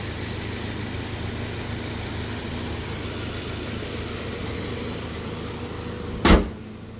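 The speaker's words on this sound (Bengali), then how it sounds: "খুব ফ্রেশ কন্ডিশনে রয়েছে ইঞ্জিনটি।" A black car's engine idles with a steady, even low hum, close and moderately loud, ending with one sharp click or thump just before the clip finishes.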